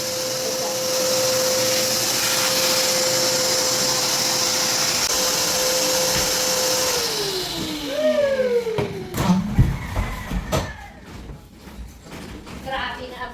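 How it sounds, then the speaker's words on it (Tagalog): A vacuum cleaner drones steadily in a large bedroom for several seconds, then winds down with a falling pitch and stops, followed by knocks, shuffling and thuds as voices talk nearby. "dito dahil malaki ang kwarto ni Ate Maninay, kailangan talaga mayroong vacuum."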